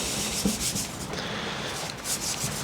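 Gloved hands rub oil into a bare solid oak pizza board, a steady close soft scrubbing and brushing sound with faint repeated strokes and no voices.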